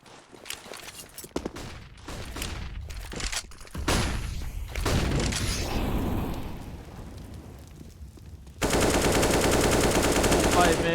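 Rapid automatic gunfire sprays down range in a Counter-Strike match on Dust2, with bursts of shots, echoing bangs and a sustained roar of fire near the end, while a caster talks over it.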